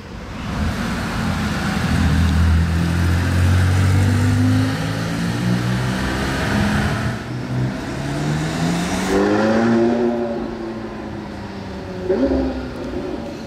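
A convoy of Italian supercars, a Lamborghini LP640 and a Ferrari 488, drives through Monaco, engines droning loudly with rising and falling revs and gear changes, close by and with no talk.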